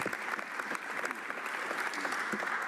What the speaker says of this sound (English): I'll accept the applause today